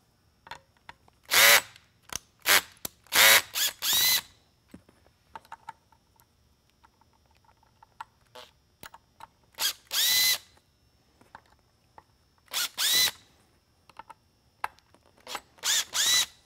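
A power driver backs out four small stainless steel Phillips head screws from around the edge of a PAR-46 LED spotlight, with short bursts of whirring separated by pauses and light clicks and handling noises close by.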